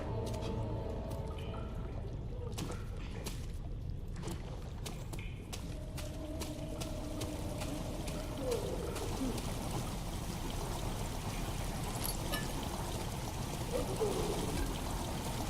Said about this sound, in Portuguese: A água começou a encher a câmera lentamente.